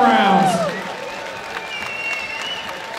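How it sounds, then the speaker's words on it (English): Crowd at a Muay Thai fight night at Crystal Palace applauds both fighters after a three-round bout, a broad wash of clapping with voices mixed in that eases and thins after the first second. "let's have a big round of applause, please, for both fighters after three excellent rounds"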